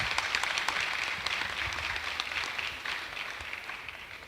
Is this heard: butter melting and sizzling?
no